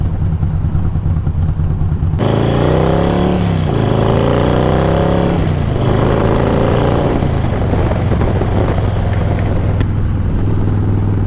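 A 2017 Harley-Davidson Slim S engine rumbles loudly and steadily throughout a ride, the pitch climbing and dropping as the rider shifts through gears and accelerates.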